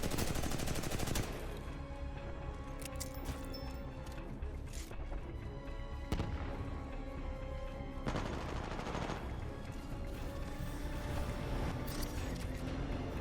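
Sustained assault rifle gunfire in the video game Titanfall 2, loud and near, with continuous rapid bursts and overlapping shots, explosions and mechanical clatter in a dense firefight with no talk.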